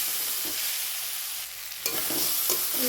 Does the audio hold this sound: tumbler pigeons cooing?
no